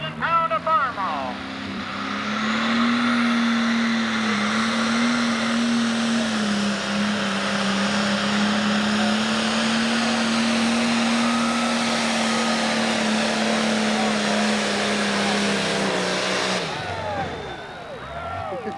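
A 12,000-pound farm tractor roars steadily at a tractor pull in 1995 Fisher, Illinois, loud and sustained for about sixteen seconds before cutting off, with an announcer talking over it.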